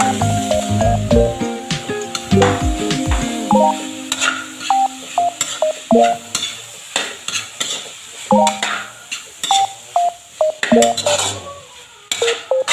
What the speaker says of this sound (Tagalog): Ilagay natin yung karne.